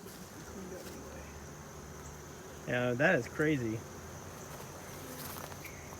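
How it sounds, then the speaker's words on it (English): Bees at an urban backyard hive give a constant, faint buzzing drone throughout. Someone briefly talks over it midway. "All these bees are getting in here."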